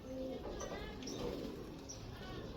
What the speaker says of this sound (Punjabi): ਇਹ ਭਚਾਲਣ ਕਬੂਤਰੀ ਆ ਜੀ